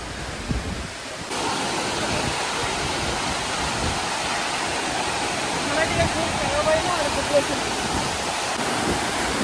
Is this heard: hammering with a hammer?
no